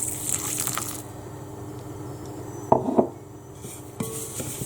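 Water is poured onto chia seeds in a kitchen, making a short trickle and splash followed by a second brief pour, close by and without talk.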